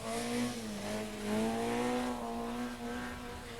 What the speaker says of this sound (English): Really drifting the car through the corners, getting the tail out.